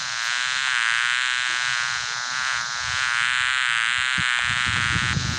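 Queen bee buzzing from a kids' animal app: a continuous, even insect drone holds steady and near from start to finish, alone.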